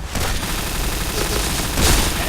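Gunfire in the shooter game Point Blank, including a sniper rifle shot, rings out as a dense continuous burst of shots with a louder blast near the end, close and loud with no talk.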